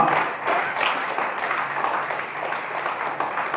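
Audience at a journalists' training and honour ceremony clapping for an honoree, an even, sustained patter of many hands from a crowd, moderately loud and unbroken for a few seconds, with no voices over it.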